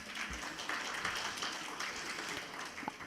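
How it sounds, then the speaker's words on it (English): Soft, distant audience applause at a learning event in Dhaka, Bangladesh, a diffuse wash of clapping that stays faint and steady for a few seconds with no talk. "please, can we get a round of applause"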